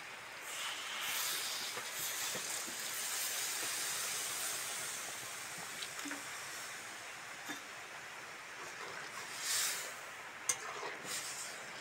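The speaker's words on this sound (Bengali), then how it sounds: "এবার জল দিয়ে দেবো।" Water poured into a hot pan of curry in a village kitchen, for a dish of yam stalks and prawns, gives a steady, loud steaming hiss that carries on throughout with a few small pops, and no talking.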